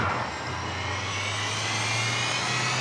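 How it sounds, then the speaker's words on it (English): A hovering helicopter in the racing game V-Rally 4 gives a steady, loud engine drone with a constant low rotor hum, alone without talk. "There's hello, helicopter. Just hovering there for who knows how long now."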